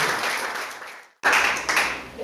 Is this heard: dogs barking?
no